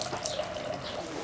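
Water poured and running over hands at a shrine purification basin, a soft, steady splashing trickle heard close and fairly quiet throughout.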